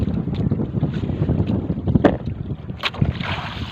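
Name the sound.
wind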